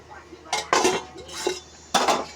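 A metal lid goes onto a pot of chicken curry in a home kitchen, giving several sharp clinks and clatters, separate metallic knocks spaced apart against a quiet background with no talking.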